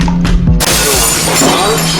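Window glass shatters in a video game: a loud sudden crash midway, followed by scattering, tinkling debris and a steady low hum, with a brief voice under it.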